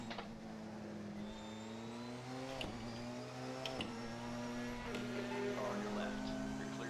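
A race car engine in Assetto Corsa during a multiclass endurance race at Interlagos, faint and distant, revving through rising pitch sweeps with quick drops at each gear change.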